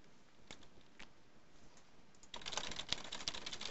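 Quiet computer keyboard typing, a few sparse keystrokes at first, then a faster, louder flurry of clicks for the last second or so.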